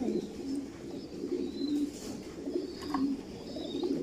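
Racing pigeons on a large loft farm give repeated throaty coos in rolling bursts, fairly close and continuous, with a few faint higher bird calls behind them and no voices.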